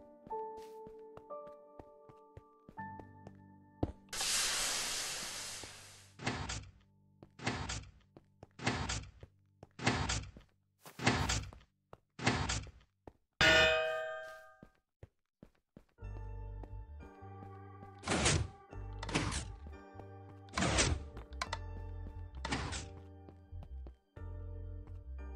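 A lever mechanism and door in the video game Kitacho Laboratories: a long burst of noise, then a regular series of six sharp mechanical clunks, a ringing clatter, and a final set of four heavy thuds over a low synthetic hum.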